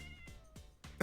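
A Minecraft cat meows in a cave-filled mountain biome, giving several short, close meows in quick succession with a louder final cry and no speech.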